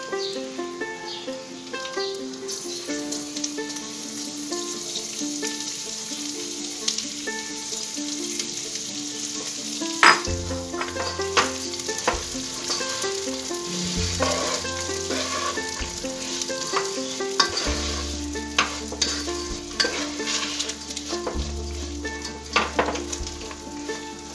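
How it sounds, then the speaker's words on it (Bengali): Lentils (dal) fry in a pan for Bengali bhuna khichuri, giving a steady close sizzle with occasional scraping stirs, partly under background music. "ডালটাকে এবার আমি লাল করে ভেজে নেব।"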